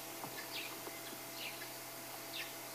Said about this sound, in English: The birds are calling.